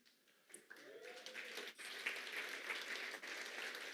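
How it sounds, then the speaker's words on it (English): A small audience at a trading seminar breaks into clapping that builds after a quiet start, soft and somewhat distant, with a few louder taps near the microphone. "Actually, can we give a round of applause?"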